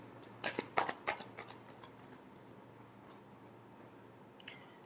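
A deck of tarot cards is shuffled close by in a quiet room, a quick burst of riffling, flicking strokes near the start that trails off into a few soft isolated taps and a small click near the end.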